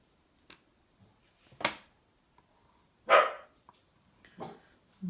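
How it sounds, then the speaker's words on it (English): Dogs bark back and forth out in a street, a few sharp barks spaced apart with quiet gaps between them, fairly distant and moderately loud. "dog's having a conversation with the other dog in the street"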